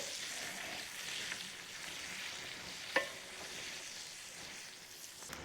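Chicken fricassee with bay leaves sizzles steadily in a pan as it is sautéed and stirred, a fairly faint, even crackle with one brief clink partway through.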